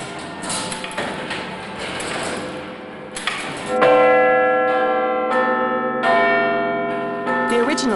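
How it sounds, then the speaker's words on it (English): Huge 13-ton bell in London's clock tower, 7 feet 6 inches high and 9 feet across, chiming the hour: loud clangs ring out one after another with long shimmering decay, following softer mechanical tones at the start. "The nickname comes from this huge bell which chimes the hour."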